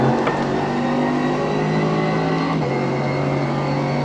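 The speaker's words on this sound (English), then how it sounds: "get in a race car and go do some testing" Race car engine in iRacing holds a loud, steady high-pitched drone with a slight pitch drop partway through, continuous and close with no voices.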